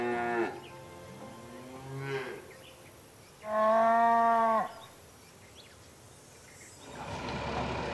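Dairy cows at the Cîteaux abbey farm in France give several long, loud moos one after another, near and clear, with quiet farmyard ambience between calls.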